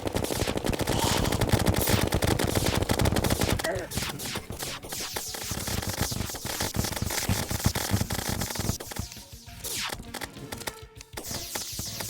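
The Super Star Shooter fires in rapid bursts during a Terraria boss fight against Plantera, a dense, loud, continuous volley of game weapon shots mixed with game sound effects.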